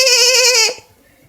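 A person imitates a goat's bleat with one sustained, wavering nasal bleat that cuts off abruptly, leaving quiet murmuring.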